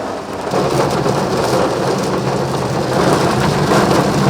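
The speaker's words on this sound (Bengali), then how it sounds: "কলকাতা জুড়ে বজ্রবিদ্যুৎ সহ বৃষ্টি শুরু হয়েছে।" Heavy rain pours over Kolkata during a thunderstorm, a loud, dense and steady roar of downpour that holds without a break, with no voices.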